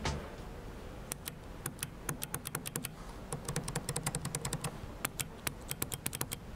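Keyboard switches on a cheap Taobao switch testbench pressed in quick, irregular bursts of sharp clicks, close up and fairly quiet over a soft background hiss, with no voice.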